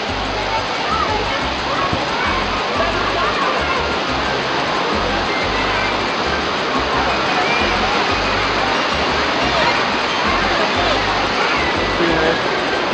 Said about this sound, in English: Alright, so this is the waterfall.